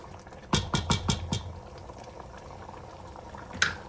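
Water is poured into a pan of simmering curry broth (shorba), giving a run of quick splashy bursts near the start, then a low bubbling hiss, with one more faint splash near the end; no talking.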